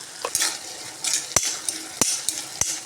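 Curry leaves sautéing in a hot pan for a Kerala fish fry, with close sizzling and crackling plus several sharp clicks and scrapes of a spoon stirring against the pan at an uneven rhythm.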